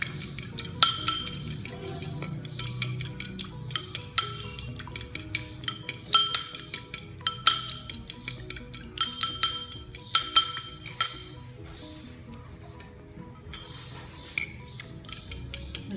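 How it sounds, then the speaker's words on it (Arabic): Utensils toss a warm vegetable salad dressed with table oil in a dish. Light clinks and taps repeat in a loose rhythm for about eleven seconds, then fade to near quiet. "كما كتشوفوا غادي نخلط هاد العناصر كلها،"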